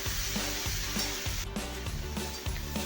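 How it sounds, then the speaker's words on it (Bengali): Potatoes and long beans fry in a pan with turmeric and salt, a soft continuous sizzle broken by regular scraping strokes of a spatula. "আরও একবার খুন্তি দিয়ে নাড়িয়ে ভাজা ভাজা করে নেব।"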